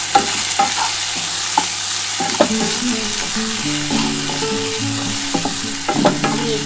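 Duck eggs sizzle in a pan with salt while a utensil scrapes and clinks against it in irregular strokes, close up, with no talking.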